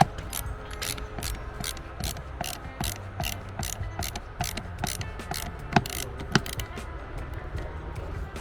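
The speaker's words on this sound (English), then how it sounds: "Tighten the screw to hold the floodlight against the mounting plate." A ratchet clicks in a steady run of sharp, evenly spaced ticks as a screw is tightened to fix a floodlight against its mounting plate, close and clear with no talking.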